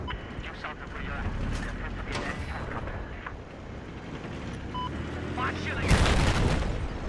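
Tank combat in Battlefield 4, with booming cannon blasts and explosions over dense battlefield noise, the loudest heavy blast near the end, and someone talking over it.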